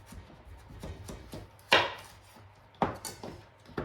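A knife chops a zucchini on a cutting board in a kitchen, a few sharp cuts with firmer thuds near the middle and end, soft handling noise between them, close and fairly quiet.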